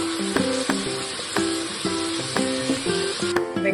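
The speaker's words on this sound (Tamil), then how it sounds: "வெங்காயம் நல்லா வதங்கணும்." Onions and curry leaves sauté in hot oil for a chicken uppu curry, giving a close, continuous sizzle. Repeated spatula strikes and scrapes against the pan ring out in a quick, uneven rhythm over it.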